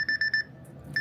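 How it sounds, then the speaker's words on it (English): A phone or clock alarm set as a medication reminder beeps three times in quick succession, near and clear, with no talk, then starts a fourth beep just before the end after a short pause. "That was my alarm to take my meds."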